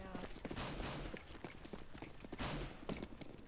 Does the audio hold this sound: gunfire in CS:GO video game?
yes